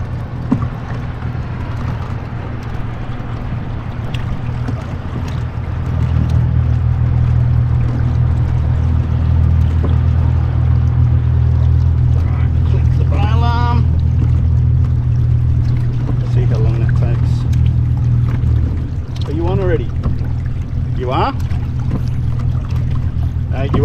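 An outboard motor on a small fishing boat near North Haven hums steadily and loud from about six seconds on, droning low beneath a voice and a child's occasional chatter, then eases off near the end.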